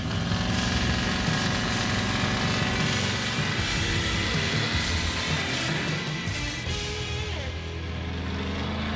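A Chevrolet Colorado truck does a burnout at a motor track to heat its tires, its engine revving loud and rough throughout with a continuous droning roar close by.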